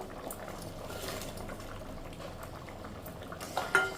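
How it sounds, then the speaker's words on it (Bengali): Thick potato curry gravy bubbling in a pot, a soft continuous simmer with low burbling close by and a couple of light utensil knocks at the end. "এই যে দেখুন ঝোলটা ফুটে গেছে গ্রেভিটা অনেকটা ঘন হয়ে এসেছে"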